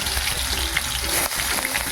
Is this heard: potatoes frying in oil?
yes